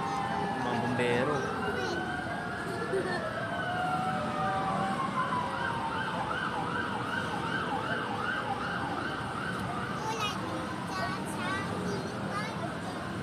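Fire engine sirens wail and yelp through a Quezon City street during a large blaze in Barangay Culiat, rising and falling in overlapping sweeps over traffic rumble, moderately distant.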